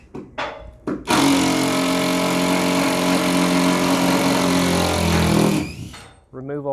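A drill fitted with a Torx bit backs screws out of a large wooden crate holding a Mahr PLM600-E machine. A couple of short starts give way to one loud, sustained whir lasting several seconds, close by.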